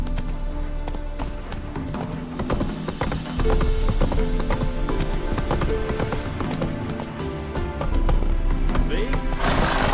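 Roach, a horse in The Witcher 3, gallops with steady, loud clip-clop hoofbeats running the whole way, mixed with game music, and a voice talks over them.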